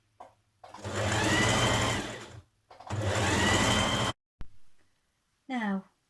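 Two steady bursts of a sewing machine stitching a coat seam, close and loud, each running over a second, followed by a brief click and a short spoken voice.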